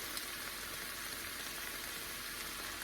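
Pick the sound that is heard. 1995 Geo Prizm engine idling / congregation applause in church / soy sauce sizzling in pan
soy sauce sizzling in pan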